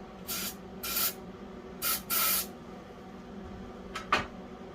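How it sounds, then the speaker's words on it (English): Several short bursts of aerosol spray hiss into the engine intake of an International 300 Utility tractor, two pairs of longer sprays followed by two quick spritzes, over a low steady engine hum. "If I spray a little bit of Go Juice now in here, see if it does anything."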